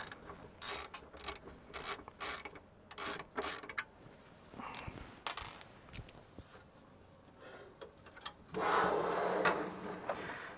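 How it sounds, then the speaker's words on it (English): Screws being removed from a Power Computing Mac clone computer case, a series of close clicking, ratcheting screwdriver turns and small metallic rattles, ending in a louder burst of rustling handling noise. "Take off these screws over here."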